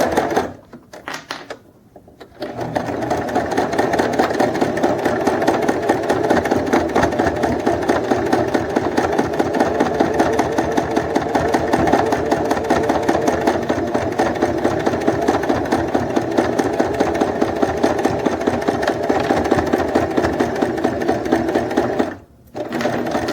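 Sewing machine running a steady, rapid stitch for about twenty seconds while topstitching the edge of a fabric wallet, starting after a brief pause and stopping briefly near the end, close and even.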